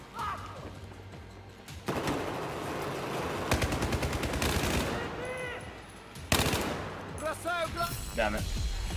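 Rapid automatic gunfire and scattered shots from the video game Battlefield 4 fill the scene in dense, loud bursts with crashes and thuds, while a player talks over the action.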